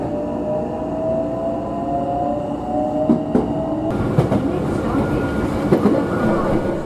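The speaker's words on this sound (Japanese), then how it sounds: "神戸三宮駅を発車します。" A Hankyu Kobe Line train pulls out of Kobe-Sannomiya Station under its domed roof, with a steady close rumble of wheels and motor, rising whine and rhythmic rail clatter building as it departs.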